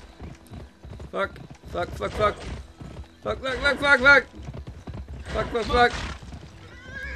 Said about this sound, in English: I'm riding my horse too hard